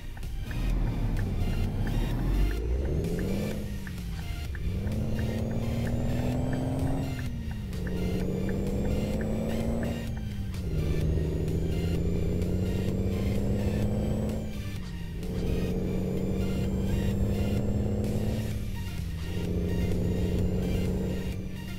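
Scania truck engine from a sound mod in Euro Truck Simulator 2, a loud deep diesel drone that climbs through the gears in repeated rising revs with brief dips at each shift.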